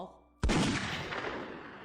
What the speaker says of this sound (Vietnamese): Ngôi làng nhỏ vốn đang tĩnh lặng, bỗng bị đánh thức bởi tiếng súng bất ngờ.